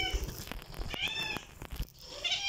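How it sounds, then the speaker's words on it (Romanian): A pet cat meows a few times up close, drawn-out rising and falling calls over a soft, busy household background. "Pleacă pisica mea."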